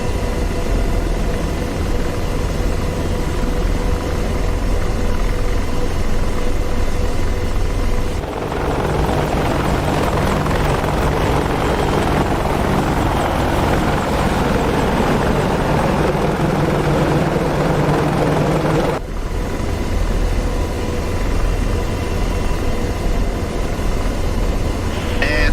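An Apache AH-64D helicopter's rotor and turbine engines drone loudly and continuously in DCS World, a dense thrumming roar whose tone shifts partway through and then returns, with no voices.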